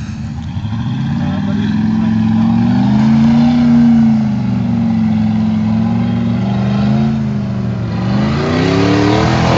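A truck engine revs hard and continuously, rising and falling in pitch as its front differential breaks, loud and close throughout with no pauses.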